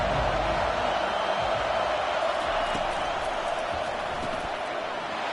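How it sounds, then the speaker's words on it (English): A roaring stadium crowd in the College Football 25 video game, with Notre Dame playing, builds into a steady, dense wall of noise on third down, loud and sustained throughout. "Decibels rising as the crowd gets behind this defense on 3rd down."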